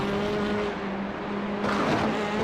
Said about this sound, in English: Hearing the cars hit that curb is so savage. Just hear the car bottom out.